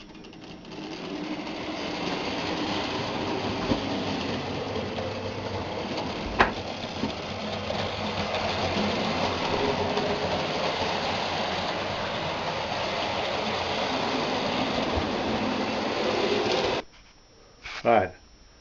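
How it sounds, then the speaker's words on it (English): Continuous rattling rumble of small model trains running on track, steady and close, cutting off abruptly near the end with a brief clatter. "I've got two of the trains running,"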